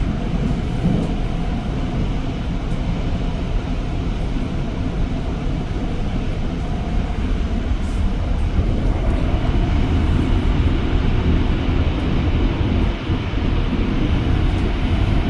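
REM light metro train riding between Brossard and Canora stations in the early morning, heard from inside a four-car set: a steady, loud rumble and rolling hum that fills the whole stretch without pause.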